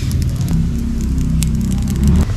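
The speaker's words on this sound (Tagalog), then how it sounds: "may apoy o. Libre gas." A campfire burning on a camping grill gives a loud, steady crackle with scattered sharp pops over a dense low rumble, continuous and close throughout.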